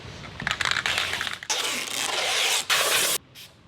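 A spray can of rubberized undercoating hisses in several bursts while working on a slammed Nissan 240SX S13 during wheel tubbing, short sprays building into a longer steady hiss, close and moderately loud.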